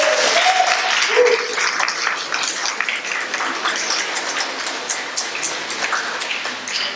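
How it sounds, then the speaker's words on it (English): An audience at an election reform forum on open primaries and ranked choice voting claps for the panelists. A couple of brief tones sound near the start, then scattered, crackling clapping continues and thins gradually. "So give them a round of applause."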